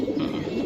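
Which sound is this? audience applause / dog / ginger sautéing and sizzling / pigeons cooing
pigeons cooing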